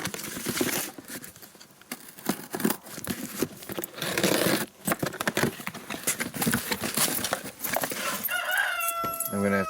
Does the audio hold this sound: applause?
no